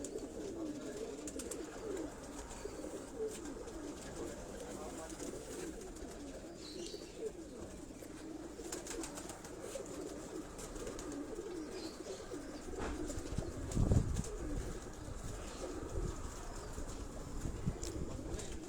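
Pigeons coo in a rooftop breeding loft in Malir Cantt, Karachi, soft rolling calls repeating throughout with occasional wing flaps and a louder thump near the middle, at moderate distance.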